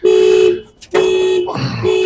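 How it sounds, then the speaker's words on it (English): A car alarm blares loudly and steadily nearby in a steady, repeating electronic tone that cuts out briefly, then returns and keeps going without a break. "Someone's alarm is going off."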